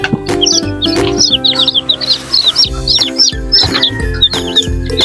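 Young chicks hatched in an incubator peep in rapid, high, overlapping chirps close by, a busy flock calling over soft background knocks and rustles.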